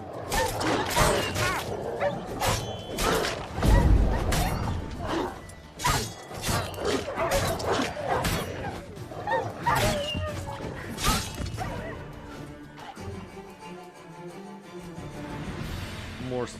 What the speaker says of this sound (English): Let's kill all those dogs.